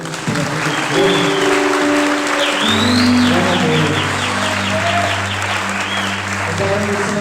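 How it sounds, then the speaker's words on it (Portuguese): A church congregation applauds together, a dense sustained clapping that fills the space throughout, with a held organ or keyboard tone underneath. "Você pode aplaudir o Senhor Jesus."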